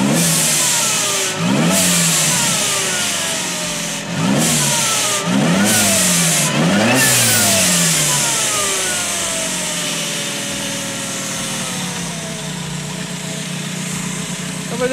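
A supercharged VW Gol G2 on its original fuel injection revs up sharply three times and drops back to idle each time, loud and close. After the third blip it settles into a steady, rough idle.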